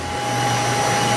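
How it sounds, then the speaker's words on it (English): Freeze dryer water recovery system starting up during a routine shutdown, a steady loud motor and pump hum with a constant drone and a sharp tonal whine throughout, close and continuous. "Water recovery system starts."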